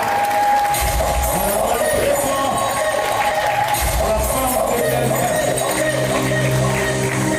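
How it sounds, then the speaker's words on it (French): Guests at a wedding celebration clap and cheer loudly and continuously throughout, a dense, sustained wash of applause with voices mixed in. "On applaudit très fort Jessica."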